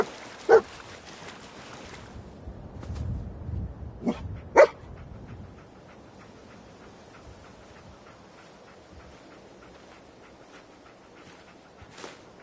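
Dogmeat, the dog companion in Fallout 4, gives a few scattered barks and short whimpers, with sharp yelps near the start and middle and again at the end, over a quiet game ambience with no talk.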